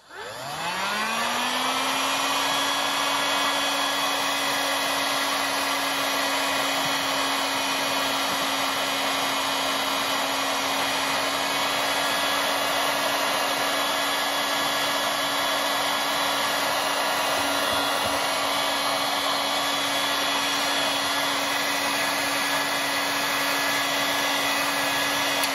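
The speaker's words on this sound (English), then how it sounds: "I'm going to run the heat gun, and you can watch the shrink wrap happen live" A heat gun roars on and holds a loud, steady blowing hum with a constant tone while shrinking plastic wrap around a JBL LX22 loudspeaker, running alone without voices for the whole stretch.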